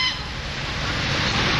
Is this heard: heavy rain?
no